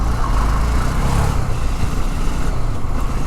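A Honda CB300F motorcycle ridden at a good pace over a rough, undulating road, a loud continuous engine drone mixed with wind and road rumble.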